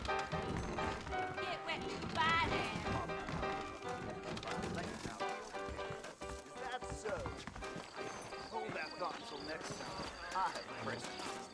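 Horses trotting in Red Dead Redemption produce a quiet, steady clip-clop of hooves under continuous character dialogue and background game sounds.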